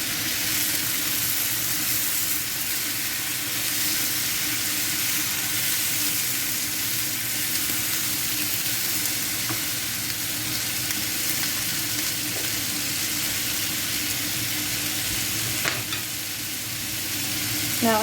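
Vegetables and pork stir-fry in a crowded pan with a constant close sizzle and frying hiss, broken by light scraping and stirring clatter and a brief knock near the end.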